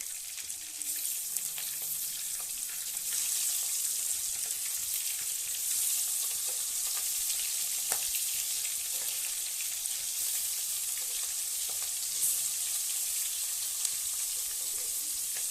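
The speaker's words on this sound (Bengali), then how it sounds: "সমস্ত মাছগুলো আমি ভেজে নেবো।" Prawns sizzle in hot oil in a pan, a steady, loud, dense frying hiss that continues without a break, with faint occasional stirring and no voices.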